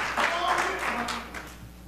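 An audience applauds a speaker at a gathering, with a steady wash of clapping throughout and a voice talking over it.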